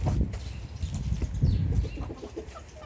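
Chickens and newly hatched incubator chicks in a poultry yard give scattered, soft clucks and chirps over a busy, low outdoor rumble, with no voices.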